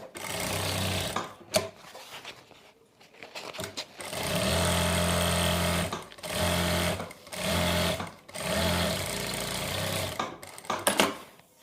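A sewing machine stitches a folded fabric strip for a Patiala salwar, running in several steady mechanical bursts of a few seconds each with short pauses between, close and loud.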